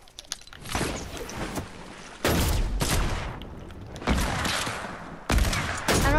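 Rapid bursts of video game gunfire in a sniper free-for-all, loud and close, coming in several clusters with brief quieter gaps between them.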